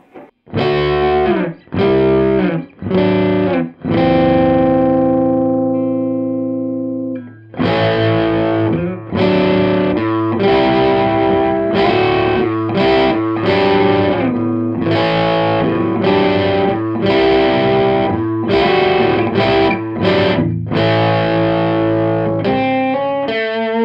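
Hagstrom Viking semi-hollow electric guitar played through heavy distortion with both pickups selected, loud strummed chords and sustained ringing notes, a few short stabs then a long held chord, alone with no talking.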